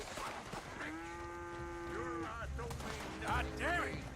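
Cattle moo in the video game Red Dead Redemption 2, a drawn-out bellow followed by a couple of shorter rising calls, fairly close over a quiet background.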